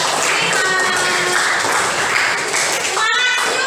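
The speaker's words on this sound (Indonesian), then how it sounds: "Ayo sebelumnya tepuk tangan dulu untuk kelompok 5" A classroom group in a teaching-practice session applauds as group 5 comes forward, dense steady clapping from many hands over a continuous crowd murmur, fairly loud and even throughout.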